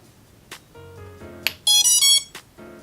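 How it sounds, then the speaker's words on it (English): A racing drone's ESC gives its startup beeps when the battery is plugged in: a short run of rising electronic tones, then a loud trio of higher pitched beeps, clean and close with a few clicks around them. "whenever you plug it in, it should make three beeps"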